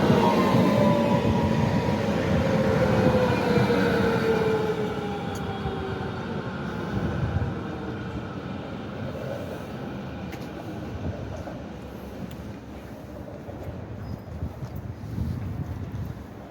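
A train rumbles past steadily near Frankfurt main station, Germany, a broad roaring wash with wind buffeting the microphone, gradually easing but continuing throughout.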